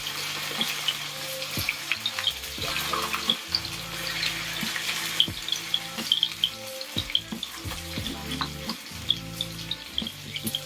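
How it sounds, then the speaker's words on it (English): Steelhead trout fillet frying in a hot pan, a steady close sizzle and crackle with sharp pops and spits throughout, no talking. "place it away from you into the hot pan"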